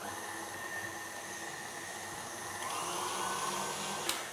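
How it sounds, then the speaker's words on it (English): Icing sugar whisked into an icing mixture gives a steady, dense whirring hiss that holds evenly throughout, with a brief sharp tap near the end. "we're going to whisk that up to incorporate a little bit of air."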